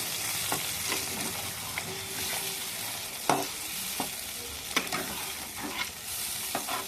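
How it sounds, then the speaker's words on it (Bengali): Chicken masala with fresh cream cooks in a pan, oil separating around the edges, as a spoon stirs it: a steady sizzle runs beneath sharp intermittent scrapes and taps against the pan, fairly close, with no voices. "এটা দিয়ে একটু নেড়ে চেড়ে দেখো চারিদিকে তেল ছেড়ে দিয়েছে।"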